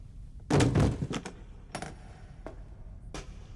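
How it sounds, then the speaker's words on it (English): Metal cases are set down on the ground in a tense standoff, giving a cluster of sharp, clattering knocks up close followed by a few separate lighter taps. "Put the cases on the ground."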